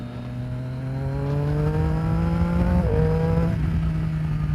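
A 2015 Triumph Daytona 675R with an Arrow exhaust pulls hard under acceleration, its steady engine drone climbing in pitch before a quick-shift gear change causes a brief dip, then resumes rising, loud and close.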